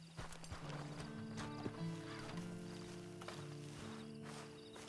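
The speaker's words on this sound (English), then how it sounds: "And you better get on this horse." A horse in the Red Dead Online video game clip-clops with steady hoofbeats and lets out a whinny, set against sustained tonal game music.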